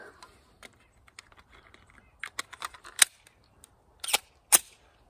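Ruger 5.7x28mm pistol being handled at an outdoor range: a scatter of small mechanical clicks and rattles, then several sharp metallic snaps and clacks close by as the magazine seats and the slide chambers a round, with no talk.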